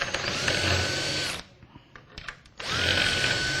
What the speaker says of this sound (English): So now if you want to just drill these real quick